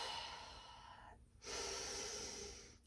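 Slow, deep breathing during a Kundalini yoga flow: a long audible inhale, a short pause, then a full, breathy exhale, close and steady.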